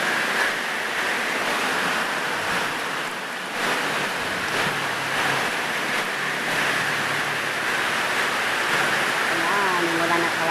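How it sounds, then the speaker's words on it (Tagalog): Rain falls steadily at a rural bahay kubo in the Philippines, a dense even hiss throughout, with a brief faint voice near the end. "Ayan, umulan na talaga."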